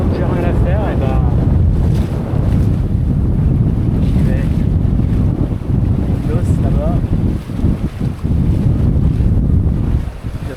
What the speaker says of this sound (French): aujourd'hui, il y a un peu de vent, c'était pas prévu